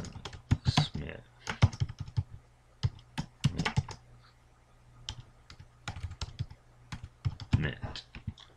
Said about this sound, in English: So we can just type in this is a change, John Smith.